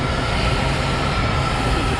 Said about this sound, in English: There's the train right now.